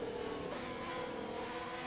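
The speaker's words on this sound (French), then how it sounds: "On voit que le moteur force déjà moins." Formula 1 car engine from a racing video game, a steady continuous drone holding a fairly even pitch and level throughout, heard alone without talk.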